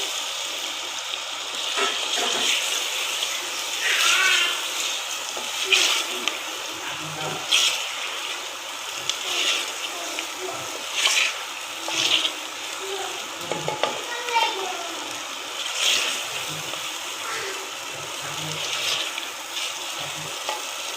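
Potatoes hit spiced masala frying in a pan and get stirred, giving a continuous sizzle with scraping spoon strokes and occasional soft knocks throughout.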